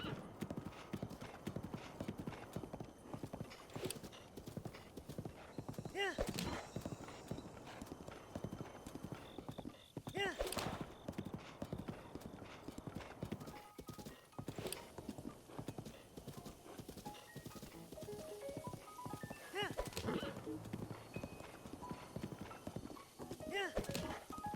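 A horse gallops in Zelda: Breath of the Wild with steady, rapid clip-clop hoofbeats throughout and an occasional whinny, while a person talks over much of it.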